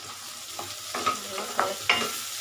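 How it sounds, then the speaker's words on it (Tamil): A bitter gourd stir-fry with chili powder and turmeric crackles softly in a pan as a spoon stirs it in about four distinct scraping strokes over a low, steady sizzle. "கலக்கி சிம்மில் வச்சுக்கணும்."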